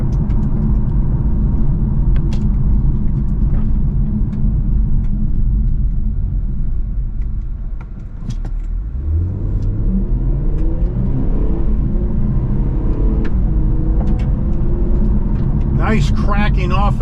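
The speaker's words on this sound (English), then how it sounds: "Nice cracking off of the gears of this 7-speed automatic with the paddles." A 2024 Infiniti Q50 Red Sport 400 Black Opal Edition accelerates with a steady engine rumble, its revs dipping and climbing as the 7-speed automatic shifts on the paddles, while a person talks throughout.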